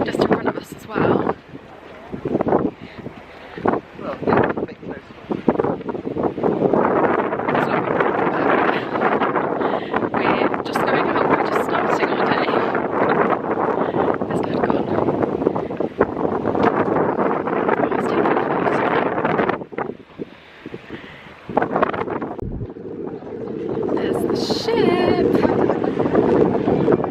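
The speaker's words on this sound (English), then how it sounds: "It's a bit windy as well." Gusting wind buffets the microphone in a steady roar aboard the MSC Virtuosa cruise ship, broken by a few brief lulls, with water and boat sounds beneath.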